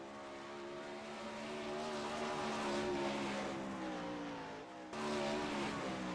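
Wingless 360 sprint cars roar around a dirt track in a steady, sustained engine drone with rising and falling pitch as they pass, loud but slightly distant, with a brief dip before picking up again.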